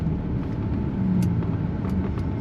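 Lamborghini Murcielago heard from inside while driving, a steady low engine and road rumble that stays even and close throughout, with no talking.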